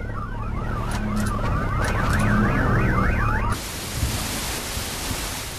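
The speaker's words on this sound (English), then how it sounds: "Do not repeatedly unlock cars just to hear the car alarm." A loud car alarm in Garry's Mod wails in rapid rising-and-falling sweeps for several seconds, then cuts off into a steady noisy hiss with a few faint clunks.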